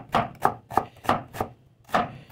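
A knife chops onions into long slices on a board, six or seven close, crisp thuds at a brisk, slightly uneven pace, no voices.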